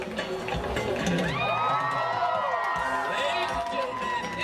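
A SeaWorld audience cheers and shouts for Dolly the jumping dolphin, a steady crowd roar with whistles and voices rising and falling across the whole stretch, fairly close and loud.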